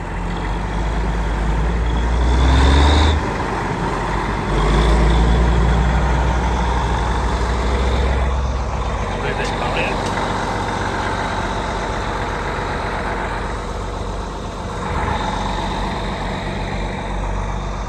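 A tractor's heavy diesel engine rumbles and idles steadily nearby on a farm, with occasional louder revving surges and no talking.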